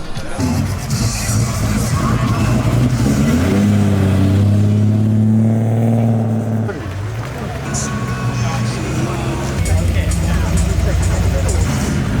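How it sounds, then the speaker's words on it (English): Holden car driving into a cars-and-coffee meet, a loud engine rising and falling in pitch as it passes close, amid crowd chatter and people talking nearby. "So we saw this Holden drive in"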